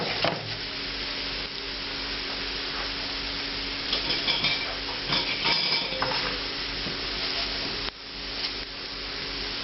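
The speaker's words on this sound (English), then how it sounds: "you can hear them sizzling" Whole spices hit extremely hot oil for an Indian red curry masala paste, giving a steady, close sizzle with occasional stirring clinks and crackles throughout.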